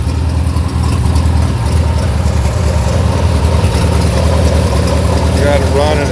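A 1956 International Harvester L120 three-quarter-ton panel truck idles close by. Its engine gives a steady, loud, low rumble that holds without change, while a voice is heard talking over it.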